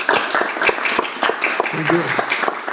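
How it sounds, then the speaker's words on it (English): Brief audience applause at an IoT security test event, a short burst of clapping from a small group, with someone speaking over it. "give a big applause to you"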